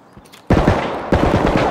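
Gunfire in the video game Escape from Tarkov: two loud bursts of rapid automatic shots, the first starting suddenly after a quiet moment and the second following about half a second later, with no talk over them.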